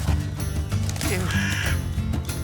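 Bird cries in the video game Immortals of Aveum, several croaking, caw-like calls sounding close over a steady game background hum, with brief low voices underneath.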